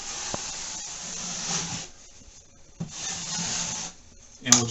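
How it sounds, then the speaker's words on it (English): A drywall knife drags all-purpose joint compound across a taped drywall seam in several close, rasping strokes, each a soft scraping swell broken by short pauses and a sharper scrape at the end. "we'll just make a few passes until we get it nice and smooth, eliminating any knife marks"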